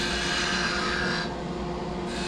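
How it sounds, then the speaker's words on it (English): A skew chisel cuts a V into spinning wood on a lathe, giving a steady, continuous rasping hiss that dips slightly partway through, close and alone. "Now I'm going to do a V cut to part it off and to establish the point."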